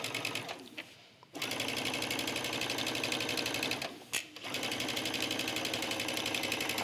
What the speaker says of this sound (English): I'm stitching the lining to the seam allowance.